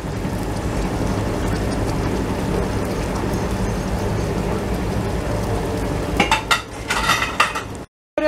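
Onion sautéing in a pan, a steady hiss and crackle of frying, with utensil clinks and stirring scrapes near the end before it cuts off.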